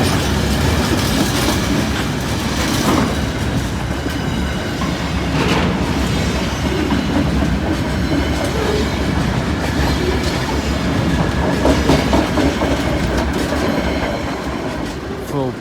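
An engineers' ballast train runs past Brayford level crossing, a loud, steady rumble with clattering wheels and a brief squeal that holds for the whole stretch, close to the listener and with no voices.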